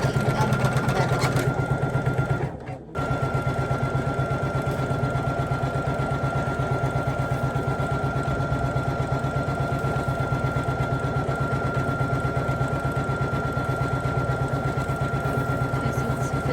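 An embroidery machine stitches an appliqué design onto a sweatshirt with a steady, fast mechanical whir and rapid needle chatter, continuous and close throughout with one brief dip.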